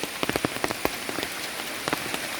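Steady heavy rain pattering on a surface on a farm property in Idukki, with scattered louder drops hitting close by; no voices.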